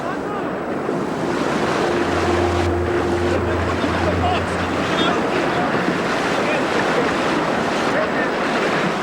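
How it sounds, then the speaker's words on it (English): Water pours and sloshes into the cabin of a flooded truck, a constant loud rushing wash with wind-like noise and a brief low engine hum partway through. "Water continues to pour into the cabin"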